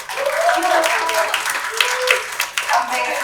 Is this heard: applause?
yes